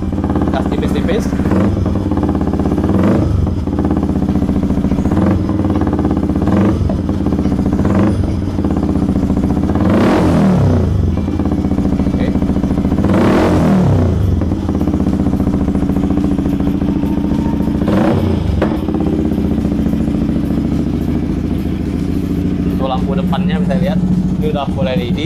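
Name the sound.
Yamaha XSR motorcycle revving lightly with Leo Fins exhaust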